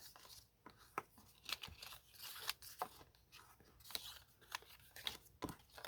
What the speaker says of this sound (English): So I'm just folding them, burnishing them well so the cubes will fold and pop up.